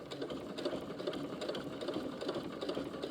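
A sewing machine runs steadily, stitching a seam on a fabric grocery bag with a continuous close-up mechanical whir and rapid rhythmic needle chatter throughout.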